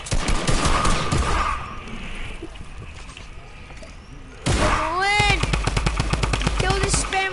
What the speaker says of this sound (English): Stop shooting at me, you bot!